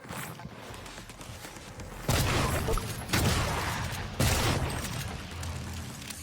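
Three loud, sharp gunshots in the video game Prey, spaced about a second apart, each a broad blast that lingers briefly over a steady background of game ambience.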